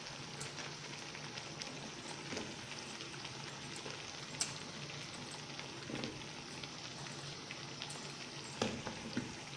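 Cut potatoes sizzling in hot oil in a pan for an aloo matar curry, a dense steady crackle with occasional louder pops, close and continuous with no talking.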